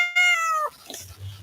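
A cat gives a single clear, loud meow lasting about half a second, followed by quieter low rustling and background noise.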